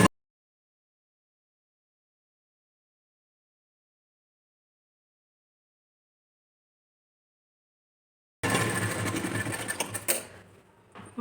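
A sewing machine stitching a princess-cut blouse, with a short burst of fast, continuous mechanical whirring up close after a long silence. The burst trails off toward the end.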